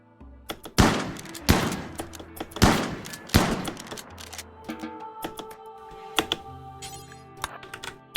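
Colonists fire a volley at a turkey in RimWorld: four loud, sharp gunshots roughly evenly spaced over the first few seconds, followed by softer scattered clicks and thuds.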